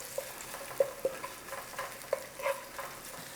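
Garlic and ribs fry in a wok under a faint, steady sizzle, with a few light clinks and scrapes from stirring, quiet and close, no voices.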